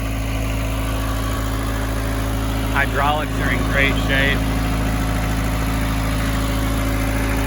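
A Mitsubishi D2650FD diesel tractor engine idles steadily throughout with a low, constant drone, while someone speaks briefly over it near the middle.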